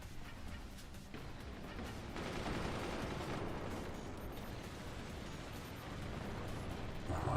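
Heavy mortars and cannons fire nonstop in the Forts RTS game, a dense rumbling barrage of overlapping booms and crackling blasts that swells louder midway and stays thick throughout with no voices.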